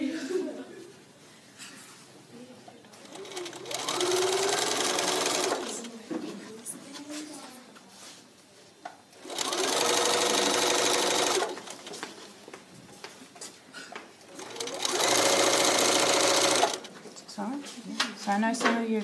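A sewing machine stitches bias binding onto the front edge of a cape in three loud, steady bursts of a few seconds each, separated by quieter pauses with a voice talking.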